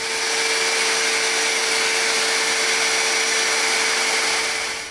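A table saw runs a cut along its fence with a loud, steady, close-up motor whine and broad rushing noise. The sound holds evenly throughout and tapers off at the end, with no speech.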